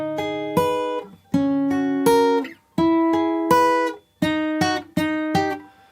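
Electric or acoustic guitar in standard tuning picks the intro riff of a song: four clean, ringing phrases of plucked notes with short pauses between them, played solo and close with no voices.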